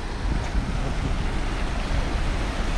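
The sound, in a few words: water rushing down from dam height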